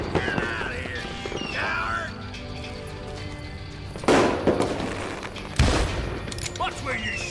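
Gunfire cracks out in the Wild West shooter Call of Juarez Gunslinger, with two sharp, loud reports standing out among game ambience and someone speaking.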